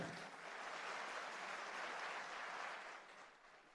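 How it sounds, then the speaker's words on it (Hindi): Steady applause from a crowd, sustained for several seconds before tapering off slightly at the end. "एक बार जोरदार तालियां हो जाए।"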